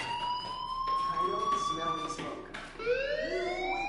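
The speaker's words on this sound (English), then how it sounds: "Hey, do you hear that fire alarm?" A school fire alarm wails in the video game Life Is Strange, a rising, sustained siren tone that holds, drops briefly, then sweeps up again, with a voice talking underneath.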